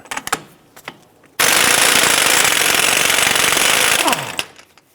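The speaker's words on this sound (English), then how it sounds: "Using a 34mm socket, let's go ahead and remove our CV axle or spindle nut." An impact wrench with a 34mm socket hammers off the CV axle spindle nut on a 2006–2013 Chevrolet Impala, one loud continuous rattling burst of about three seconds after a few light clicks, then it winds down.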